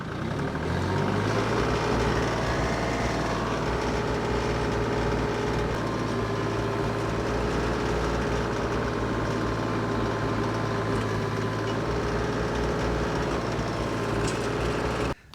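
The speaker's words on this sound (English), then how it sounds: "the post hole digger worked. We did get a hole drilled." An engine-powered post hole digger runs loudly and continuously, drilling a hole in dry ground. Its motor drones at a steady pitch for about fifteen seconds with no talking.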